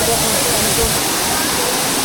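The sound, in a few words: Muppochora waterfall, Bilaichhari, Rangamati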